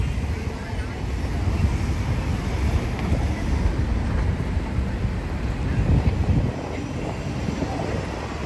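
Strong wind gusts across the microphone on an Upper West Side street in New York City in winter, a loud continuous rumbling roar with buffeting surges throughout.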